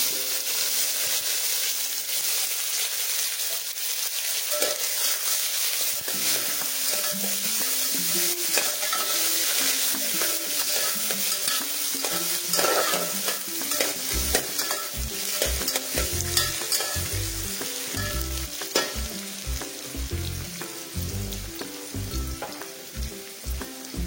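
Onion and tomato fry for a spicy Satara-style mutton curry, a continuous sizzle with frequent stirring; in the second half rhythmic spatula scrapes and knocks against the pan grow louder and more regular, no voices.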